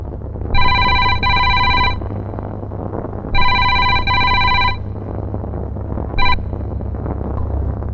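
A telephone rings on an outgoing call: two double-burst electronic rings, then a brief third starting, loud and clear over a low steady background hum.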